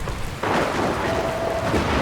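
Storm rain and thunder in the Dragon Quest Builders 2 video game, a steady loud rain wash that starts abruptly after a short quieter moment and continues with a low rumbling undertone.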